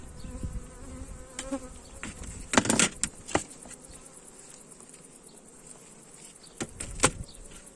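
Honey bees buzz around a hive during beekeeping work in a quiet setting, with a few sharp rustles and clicks nearby rising over a low, steady hum.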